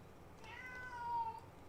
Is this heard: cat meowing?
yes